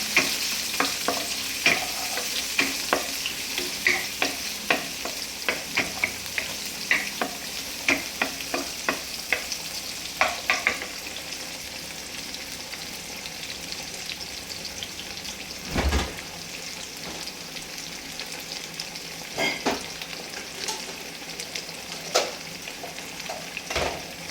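Green chilies and onions sizzle steadily in a hot pan for a vegetarian pulao, with frequent scraping stirs and clatters against the pan over a continuous frying hiss.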